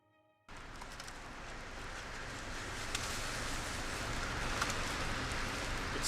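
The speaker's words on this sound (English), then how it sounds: "it's raining outside" Steady rain falling outdoors on a cold 41-degree day, starting abruptly after a brief quiet moment and then continuing as a dense, even hiss with scattered drop ticks and no voices.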